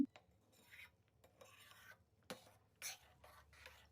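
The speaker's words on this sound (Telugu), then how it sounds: "ఇప్పుడు మొత్తం కలిసేలాగా ఒకసారి కలబెట్టుకుందాం" Stirring rice kheer (jeera rice payasam) after fried ingredients are added, heard as soft, irregular scraping and rubbing strokes of a spoon in the pot, fairly quiet and close, with no talking.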